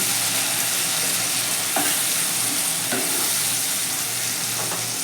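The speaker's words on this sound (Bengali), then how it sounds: "এবার আমি খুব ভালো করে মশলাটাকে কষে নেবো" A steady loud sizzle of tomato and spice paste frying in a pan, with a few scraping stirs of a spoon against the pan.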